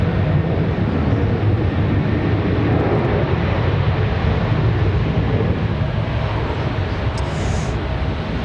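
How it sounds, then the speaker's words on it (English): An American Eagle airliner approaches Raleigh-Durham International Airport on a windy day, a steady broad jet rumble filling the background, sustained and fairly loud without clear rise or fall. "Sounds like we got an American Eagle headed back this way."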